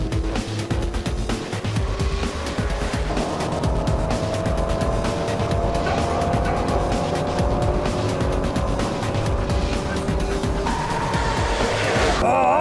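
A Ford GT sports car roars up to speed on the Autobahn, its engine a loud, sustained drone that climbs in pitch through gear changes, with tire and wind noise underneath and a voice talking over it.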